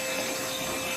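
A Parkside cordless vacuum cleaner runs in blowing mode, pushing air into corners as a steady, loud, close whoosh of airflow and motor noise that holds level for the whole second.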